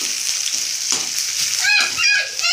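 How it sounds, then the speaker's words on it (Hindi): Onion tossed into hot oil with garlic, cumin, chilli, bay leaf and dried red chillies, giving a steady close sizzle with brief stirring scrapes and a louder hiss as the pieces hit the oil. "प्याज डाल दी हूँ और इसको मैं भूनूँगी"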